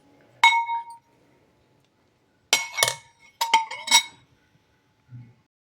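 Cauliflower pickle being mixed with spices in a bowl, giving a few sharp, ringing clinks of utensil against the bowl in separate bursts with quiet gaps between.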